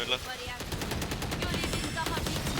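Rapid gunfire in the tactical shooter Valorant during a ranked match, a dense continuous burst of automatic shots, loud and close, while players talk excitedly over it.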